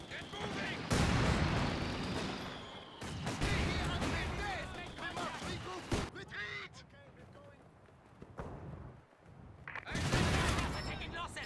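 Mortar fire in a video game battle, repeated heavy blasts and rumbling bursts at close range mixed with shouting voices and chaotic background noise.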